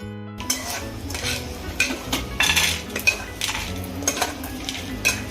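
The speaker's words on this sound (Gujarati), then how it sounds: "તો આપણે એને હવે એક પ્લેટમાં કાઢી દઈશું ઠંડુ કરવા માટે." Roasted, skinned peanuts are scraped out of a pan onto a plate to cool, with a run of close metallic clinks, rattles and scrapes of a spoon against the cookware.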